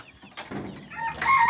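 Chickens cluck in a pheasant hut pressed into service as a poultry coop, a close, busy farmyard chorus of short clucks and squawks building louder toward the end.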